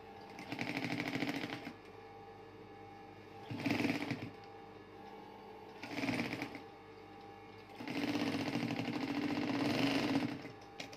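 A Singer sewing machine stitching a bedsheet edge, running in three bursts of rapid mechanical clatter separated by quieter pauses, the last burst longest, close and moderately loud with no talk.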